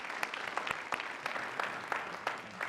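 An audience at a smart cities conference on global sustainable development claps to welcome the mayor, a fairly faint, steady patter of many hands with crisp individual claps standing out throughout.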